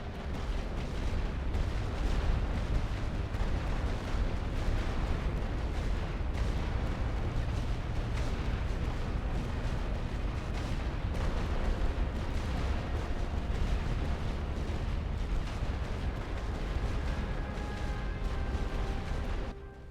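Artillery fire rolls on without a break for the whole stretch in The Great War Western Front, a World War I game on the Western Front, with dense, loud booms and blasts layered over one another.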